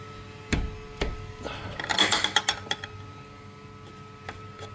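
Half-inch wrench loosening a bolt on a garage door, close metallic clanks and knocks with a brief cluster of ratcheting clicks in the middle.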